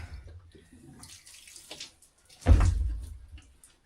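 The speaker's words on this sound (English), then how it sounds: "I need some more water on this board. I guess we'll use some of my drinking water." Drinking water pours onto a wooden cutting board outdoors while meat is prepared for slow smoke curing, a short, loud splashing gush after quieter handling noises, close by.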